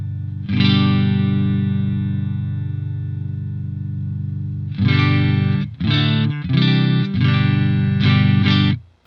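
An electric guitar runs through a Two Notes Torpedo CAB M preamp with the gain turned up, giving a distorted, edgy tone: one long sustained chord rings for about four seconds, then several shorter chopped chords follow in a rhythmic burst.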